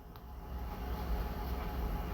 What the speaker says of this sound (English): And the engine steamed over the crossing.